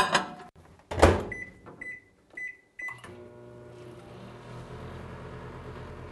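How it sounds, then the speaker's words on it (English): A 1400 watt microwave oven gives a few short electronic beeps and a door or button clunk, then settles into a steady low humming whir that runs on to the end. "I want to say this is a 1400 watt microwave"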